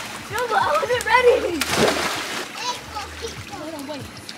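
A large splash as someone jumps into a pool, a brief broadband burst of water in the middle, with children's excited voices talking and calling before and after.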